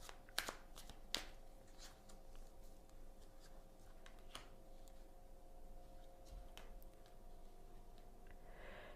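Oracle cards are shuffled in quiet, faint soft riffling and sharp clicks of card edges, with a couple of louder snaps early and scattered ticks after, no talk over it.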